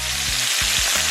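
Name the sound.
Jamaican escovitch fish frying in a pot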